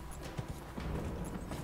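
A mount in the Dragon Age: Inquisition horse race gallops, with quick rhythmic hoof thuds over steady background game ambience, a short unbroken burst of running.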